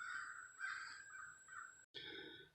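Crows caw from a distance in the woods during an Ohio deer hunt, several harsh rasping calls in a row, faint and outdoors with no talking.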